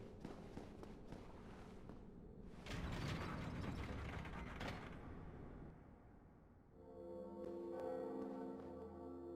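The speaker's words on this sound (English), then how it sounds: "So that's the second Bell of Awakening, which means we can start progressing onwards into Sen's Fortress" Bell of Awakening tolling in Dark Souls Remastered, a loud clanking metallic mechanism and resonant bell tones that swell midway and ring out with sustained harmonic hum toward the end, with no talking.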